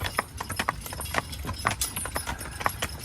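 Hooves of a young team of Belgian draft horses clip-clop steadily on a drive, a close, uneven patter of sharp strikes with faint harness jingle and no voices.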